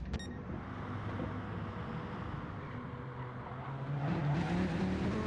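Race cars circle the Nurburgring GP circuit in a racing video game, a steady engine drone with whooshing passes that builds toward a rising high-pitched whine as one car accelerates closer near the end.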